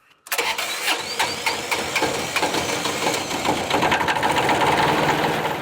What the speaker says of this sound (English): This is a little 2-cylinder diesel here with a turbo.